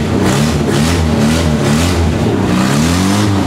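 A carbureted Toyota AE86 engine in Bogor runs and revs loud and close, its pitch climbing and falling through repeated throttle blips with a rough, buzzy tone and no talking.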